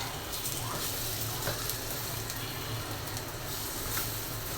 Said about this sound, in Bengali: অল্প তেলেই আমি ভেজে নিচ্ছি